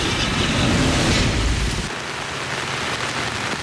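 Heavy rain pours steadily in a dense, loud roar with a deeper rumble in the first half, falling during flooding in Butuan City, Philippines, with no talk over it.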